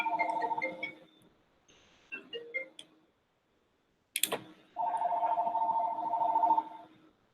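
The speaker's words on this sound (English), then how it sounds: "Sorry, my phone was ringing." An electronic phone ringtone: short bursts of melodic beeps, a brief pause and a sharp click, then a long sustained tone that stops abruptly.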